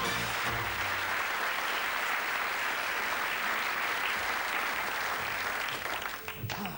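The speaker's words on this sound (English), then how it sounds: "Let's give you a round of applause." Studio audience applauding loudly and steadily throughout, a dense wash of clapping at a television magic and game show that fades slightly right at the end.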